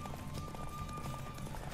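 Horse hooves galloping and cantering in a horse race in The Witcher 3, a steady rapid thudding rhythm close by with a continuous low rumble underneath.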